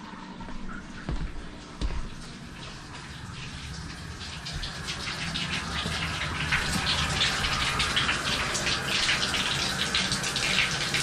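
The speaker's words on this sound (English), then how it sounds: "once you get flow, you want to let it run until it runs clear" Water gushes steadily from a tap into a bathtub after a water heater refill, running rust out of the line; the broad hiss builds slightly and holds loud and continuous throughout.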